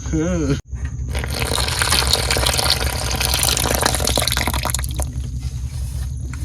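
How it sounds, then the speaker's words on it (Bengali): Water is poured into wheat flour to knead roti dough while cooking aboard a boat: after a brief gap, a steady, close gushing and splashing pour runs continuously for several seconds. "অল্প করে জল দিয়ে মাখাতে হবে"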